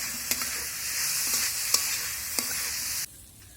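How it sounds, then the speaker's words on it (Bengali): Spices with red chilli powder fry in a pan, giving a continuous close sizzle with a few sharp stirring taps, then the sizzle drops away abruptly near the end. "লাল লঙ্কা গুঁড়ো এই মশলাগুলো দিয়ে ভেজে নেব"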